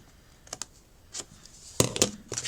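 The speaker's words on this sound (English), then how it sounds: "You just need to snip down to the score line" Scissors make sharp, crisp snips as they cut card down to a score line during papercraft. The cuts come close up in quick, irregular clicks, with no talking.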